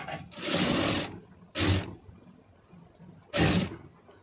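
A sewing machine stitches fabric in three separate bursts of whirring, one long run and then two short ones, with quiet pauses in between. The sound is fairly close and comes with no talk.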